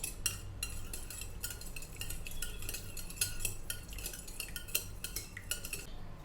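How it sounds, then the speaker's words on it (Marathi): Half a cup of yogurt is whisked in a mixing bowl with a utensil, giving a quiet, continuous run of rapid clinks and scrapes against the bowl, close up and without voices. "एका मिक्सिंग बाउलमध्ये आपण अर्धा कप दही घ्यायचं आहे आणि ते चांगलं फेटून घ्यायचं आहे।"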